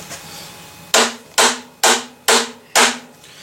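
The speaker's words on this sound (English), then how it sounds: "we're going to hammer on her again" Five sharp hammer blows strike at a steady pace, about half a second apart, each ringing briefly, close and loud, as a section is driven and seated onto the piece below.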